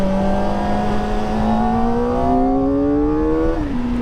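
Kawasaki sports motorcycle ridden steadily while being run in, its engine note rising gradually through a held gear before a brief dip and shift near the end, continuous and close with wind rush.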